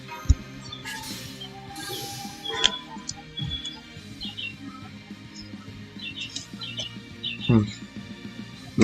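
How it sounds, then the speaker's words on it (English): Small bird chirping outdoors, faint and in the background, a few short high tweets scattered through the clip under a person talking nearby. "sorry about that chirping sound. It sound outside"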